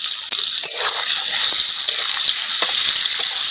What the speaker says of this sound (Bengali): প্রথমে আমি আলুটা একটু ভেজে নিই, তারপরে ডিমটা ভাজবো।